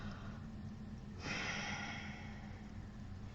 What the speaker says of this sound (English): Again, you take a deep breath.